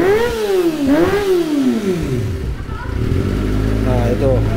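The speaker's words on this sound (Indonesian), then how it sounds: "Ini gua coba geber ulang guys suara ini guys." A Kawasaki ZX25R motorcycle's engine is blipped twice, each rev sweeping up and falling away. It then settles into a deep, steady idle, with a few lighter throttle flicks near the end, loud and close.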